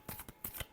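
A tarot deck gives a few soft, close shuffling flicks in quick succession, faint and brief, with no voice.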